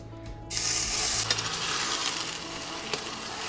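Onion paste drops into a hot pan and erupts into a loud sizzle, then settles into steady frying with occasional clinks and scrapes of stirring, heard close with no voice.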